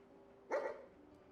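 A single short dog bark or yip, fairly close, from a dog in a modded Fallout 4 game, heard over a faint steady background hum.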